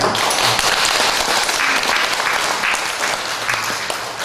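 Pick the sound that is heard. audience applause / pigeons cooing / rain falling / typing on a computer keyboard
audience applause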